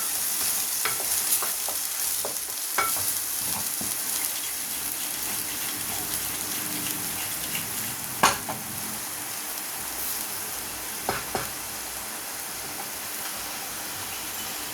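Onions sizzle steadily in a hot pan over low flame while a utensil scrapes and clicks now and then as they are stirred, while making egg curry.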